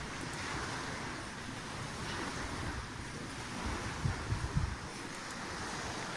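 Ocean waves wash ashore at Icy Strait Point, Alaska, a steady low rumbling surf with gentle swells and a few soft surges near the end, mixed with light wind buffeting the microphone.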